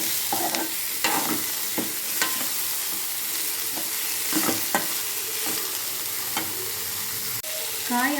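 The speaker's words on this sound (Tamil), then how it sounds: "காய் ஆட் பண்ணி ஒரு நிமிஷம் மட்டும் அந்த எண்ணெயில் லைட்டாக வதங்குற மாதிரி இருக்கட்டும்" Boiled cluster beans with curry leaves sautéing in oil in a pan: continuous sizzle broken by repeated scraping and clattering stirs of a spoon, close and fairly loud, with a faint voice briefly.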